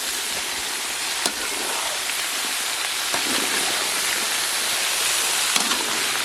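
Green chillies and mango fry in a pan, a dense, loud, continuous sizzle like heavy rain, with a few faint scraping clicks as the pieces are mixed.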